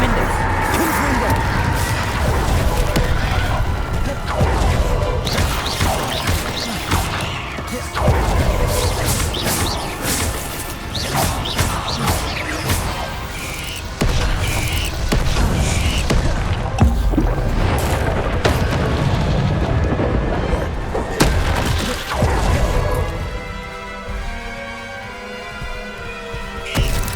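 Spells go off repeatedly in Hogwarts Legacy combat, a busy run of crashing blasts, whooshes and impacts piled over one another, loud and near, with shouted incantations mixed in and a brief calmer tonal stretch near the end.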